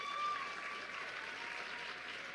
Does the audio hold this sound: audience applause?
yes